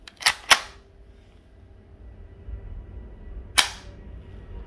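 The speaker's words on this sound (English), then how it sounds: "let's say you fired a shot, bolt reciprocates, loads another one" A PP-2K (PP2000) gas blowback airsoft submachine gun fires close by: a pair of sharp cracks with the bolt snapping back and forth, a quiet pause, then one more crisp shot with its cycling clack.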